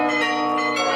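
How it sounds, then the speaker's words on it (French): Carillon bells ring out from a belfry, playing the Doudou tune. The tones are sustained, resonant and overlapping, and they fill the moment steadily and loudly with no voices. "Du haut du beffroi, les carillons résonnent, entonnant l'air du doudou"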